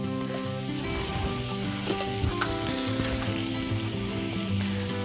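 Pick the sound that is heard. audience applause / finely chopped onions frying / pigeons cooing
finely chopped onions frying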